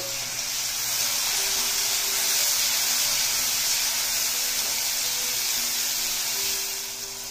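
Chopped medium tomato pieces hiss and sizzle steadily in hot tempering oil, a continuous broadband frying spray that swells slightly mid-clip and holds without talk.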